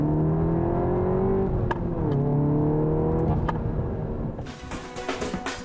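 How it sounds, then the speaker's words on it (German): A Seat Cupra R, its exhaust system taken from the Golf Clubsport, revs hard in a few rising and falling pulls, then drops to a lower idle burble with faint clicks. "die Abgasanlage stammt vom Golf Club Sport und wurde von Seat nochmal überarbeitet und die hört sich wirklich gut"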